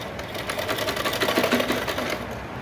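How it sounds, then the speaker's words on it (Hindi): A sewing machine runs a quick burst of stitches on waste cloth for a baby frock, its rapid needle chatter rising and fading over a couple of seconds. "इस तरह से करके इसे हम अगेन एक और सिलाई चला लेते हैं इस तरह से।"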